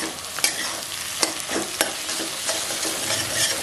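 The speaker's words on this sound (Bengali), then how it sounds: "ভাজছি যখন তখন এই খুন্তির সাহায্যে ডিমগুলোকে ভেঙে ভেঙে মানে গুঁড়ো গুঁড়ো করে দেবো।" Eggs frying in a pan for home-made chowmein, broken up with a metal spatula: a close, steady sizzle punctuated by a few sharp scraping knocks.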